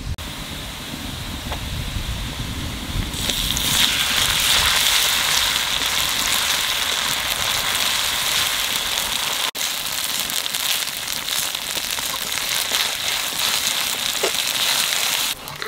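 Onions sizzle and crackle steadily in hot oil in a pan during home cooking of stingray fish curry, a continuous frying hiss that grows louder after the first few seconds.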